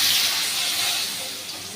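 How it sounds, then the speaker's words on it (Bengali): Long strips of large potato fry in hot oil with a loud, steady close hiss that slowly eases in volume. "সেই আলুটাকে আমি এর মধ্যে দিয়ে দিচ্ছি। দিয়ে আমি একটু আলুটাকে ভেজে নেব।"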